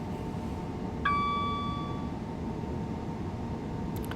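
Train door warning chime in the Train Sim World 4 railway simulator: a single clear, bright ding that rings and fades over about a second above a low, steady train hum.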